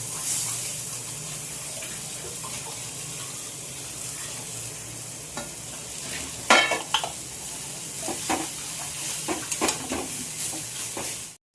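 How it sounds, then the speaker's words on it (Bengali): Greens stir-fried with cumin and coriander powder in a home Bengali kitchen, a steady sizzle with scraping stirs and a few sharper clatters of the spoon against the pan, no talking. "জিরের গুঁড়ো আর একটু ধনের গুঁড়ো, ভালো করে কষিয়ে নিই।"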